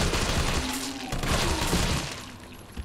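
Gunfire in Resident Evil 3 Remake, a burst of several shots fired in quick succession, loud and close against a busy game soundscape with no talk.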